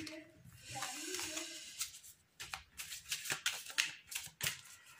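A deck of cards being shuffled: a soft riffle followed by a rapid run of crisp, close card flicks and slaps in irregular bursts.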